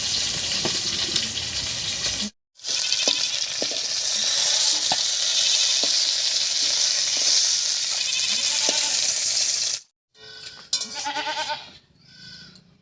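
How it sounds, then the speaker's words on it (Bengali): Rohu fish frying in hot oil gives a loud, steady sizzle with scattered pops and spatters, broken by two brief silences and a final stretch of clattering handling sounds; nobody speaks. "লাউটা কাটতে কাটতে মাছটা এদিকে ভাজা হয়ে গেছে"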